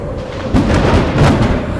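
Thunder from a severe storm rumbles in heavy, rolling bursts, loud and close, with no voices.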